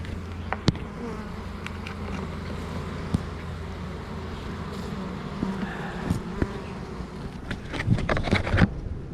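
Honey bees buzz steadily at an open, well-stocked beehive, a close continuous drone with scattered louder passes from individual bees near the end; no one speaks.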